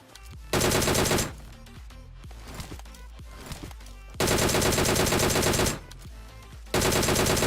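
Bursts of automatic gunfire from PUBG Mobile come in three loud sustained volleys, with quieter single shots and game noise in between.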